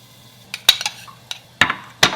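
Cooked bok choy is added into a bowl in a home kitchen, with several sharp clinks of dishes and utensils in an irregular sequence, close and fairly loud with no talking.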